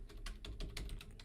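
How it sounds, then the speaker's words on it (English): Rapid typing on a computer keyboard, a close run of about ten crisp key clicks in uneven rhythm, with no voices over it. "Let me type it."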